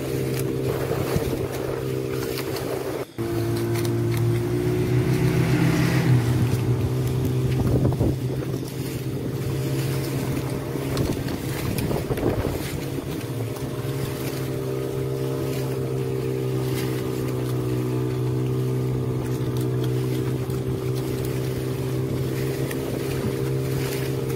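A motorboat crosses open sea between Ayah and Pedalen beaches on the south coast near Gombong, its engine droning steadily and loudly up close for the whole stretch, with wind buffeting the microphone.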